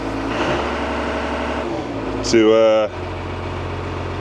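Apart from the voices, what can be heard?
JCB Fastrac tractor engine revving after start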